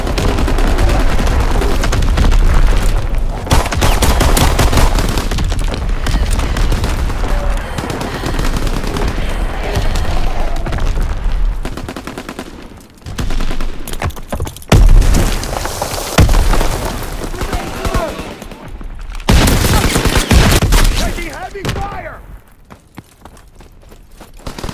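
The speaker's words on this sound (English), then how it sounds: "Firing primary battery." A WWII warship's primary battery guns fire in a video game: loud, heavy, booming salvos and rapid bursts run almost without a break, then thin out toward the end.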